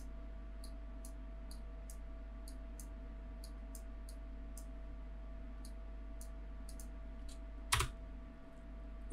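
Computer keyboard keys pressed while modelling panel details in Maya: soft, evenly spaced taps, fairly faint over a steady low hum, with one louder thump near the end.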